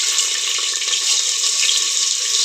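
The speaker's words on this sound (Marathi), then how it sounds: "स्वच्छ भाज्या धुवून घ्यायच्या" Vegetables are washed under running kitchen tap water while pav bhaji is made. A steady, loud, close rush of water pours on without a break.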